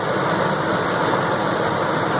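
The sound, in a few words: pickup truck V8 engine idling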